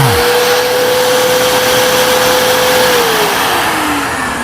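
A Festool sander with vacuum dust extraction strips rust from an old Rigid jointer, a loud steady close whirring hum with a high whine that drops slightly in pitch near the end, no voices.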